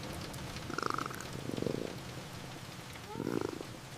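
A contented cat purrs in low, rumbling bursts that swell and fade with each breath, close and fairly soft, with a light patter in the background.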